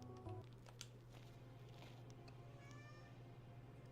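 A cat meows a few times at close range in a game session of Neon White, the calls thin and faint over a steady low hum of game music.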